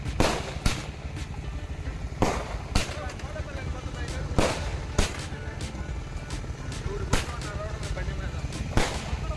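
Loud firecrackers burst one after another at irregular intervals, sharp cracks over a steady background rumble of crowd and traffic, at a village temple festival with heavy traffic.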